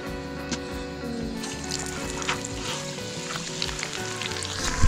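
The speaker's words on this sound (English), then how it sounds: "Our oil is ready for the fish." Fish fries in hot oil with a continuous close crackling sizzle and occasional bubbling pops, steady throughout and without talk.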